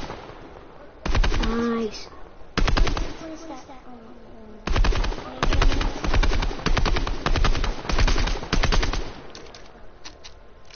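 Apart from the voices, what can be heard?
gunfire from a video game gun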